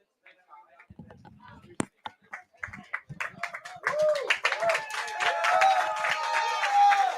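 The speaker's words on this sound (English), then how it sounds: "As you can hear, the roaring applause" Applause from a packed house at the Crow's Nest sports show, starting as a few scattered claps and swelling into dense clapping and cheering that carries to the end.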